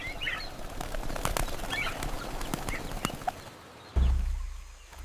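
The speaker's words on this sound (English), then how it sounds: "Birds of bright colors screeched in the treetops" Brightly colored birds call from jungle treetops with a scatter of chirps and screeches over a steady hiss, then a heavy thump near the end.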